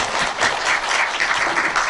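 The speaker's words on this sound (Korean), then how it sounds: "다시 한번 박수 부탁드립니다" An audience at a post-screening talk applauds a guest physics professor, brisk, loud, close clapping from a seated crowd lasting a couple of seconds with no voices over it.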